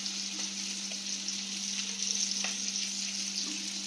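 Green chillies, garlic and curry leaves sautéing in hot oil for Madurai-style fish kulambu give a steady, even sizzle with faint clinks from the pan, with no voices.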